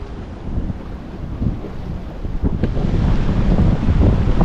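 Big storm surf rolls in at North Jetty, Humboldt Bay, a dense rumbling wash of breaking waves that swells louder toward the end, buffeted by strong wind on the microphone.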